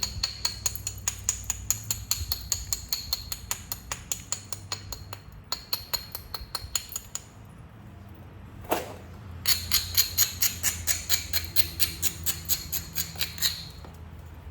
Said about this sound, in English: I'm gonna try to strike flakes off the other side.